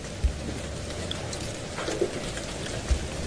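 Rain with hail falls in a steady, soft wash of patter, with a couple of dull low thumps from impacts, heard evenly throughout with no voices.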